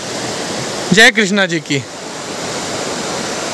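Water dripping and streaming down inside the Tupkeshwar temple cave in Dehradun, a continuous loud hiss filling the whole stretch, with a short spoken phrase near the start.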